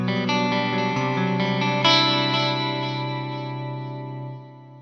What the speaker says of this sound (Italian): sentite che c'è sia un riverbero, dovrebbe essere un riverbero Hall, sì, è un delay digitale